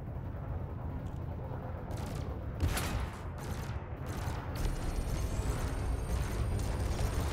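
Bursts of ship weapon fire in the space combat game Elite: Dangerous, a run of sharp shots over a steady low engine rumble, fairly close and moderately loud.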